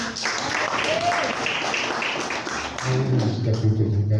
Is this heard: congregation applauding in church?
yes